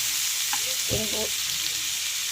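Vegetables sizzle steadily in a hot pan, a continuous close frying hiss with a few soft clinks and scrapes of stirring near the middle.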